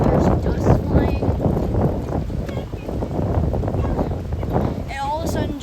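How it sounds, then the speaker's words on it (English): Strong, gusty storm wind at a campground park buffets the microphone with heavy rumbling blasts, loud and continuous, while a voice talks faintly underneath. "a storm just blew in over here, and it's like super windy"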